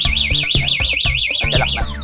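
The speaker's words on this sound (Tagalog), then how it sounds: "Tapos itong yung baba, anti-theft alarm." A scooter's anti-theft alarm blares loud and close, a rapidly warbling siren tone over a pulsing beat of repeated electronic chirps.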